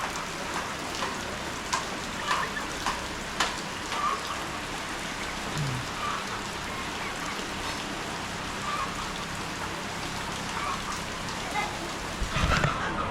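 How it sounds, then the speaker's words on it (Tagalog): Heavy rain pours steadily onto surfaces, a dense continuous hiss with scattered louder drops and splashes, while a person talks quietly at times. "Grabe ang ulan ngayon mga guys."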